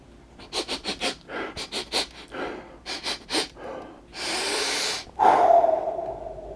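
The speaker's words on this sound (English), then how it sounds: "Let's come in for a sniff." Someone sniffing a newly opened Necromunda: Hive Secundus box set, a run of quick close sniffs and breaths followed by a longer drawn-in inhale and a sharp exhale.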